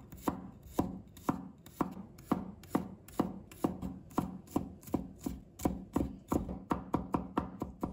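A knife mincing garlic on a cutting board, with steady rhythmic chops, about two per second, close and clear, quickening near the end, no voices.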